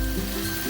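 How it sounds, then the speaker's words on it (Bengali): Potatoes and flat beans fry uncovered in fish oil, giving a dense, continuous close sizzle across a very short stretch with no voices. "এবার আমি ঢাকাটা খুলে কিছুক্ষণ ভালো করে ভেজে নেব"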